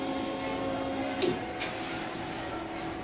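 A DTF printer runs a nozzle check, giving a steady mechanical whir and hum with a brief louder shuffle of the print head partway through.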